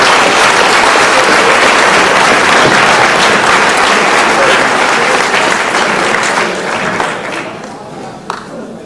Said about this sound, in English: Let's give those people a round of applause.